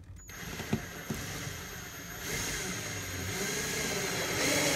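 A screw is driven into drywall to fix a furniture anti-tip strap, giving a close ratcheting, mechanical whir with a few sharp clicks early on, then a steadier rising drive toward the end.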